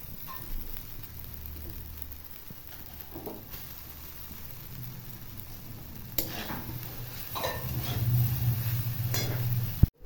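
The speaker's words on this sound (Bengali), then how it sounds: "এগুলো এখন ফ্রাই করা হয়ে গেছে, এর মধ্যে আমি চাউমিনগুলো অ্যাড করে নেবো" Carrots, beans and chow mein noodles stir-frying in a pan, a steady soft sizzle with scraping stir strokes that grows busier toward the end, no talking.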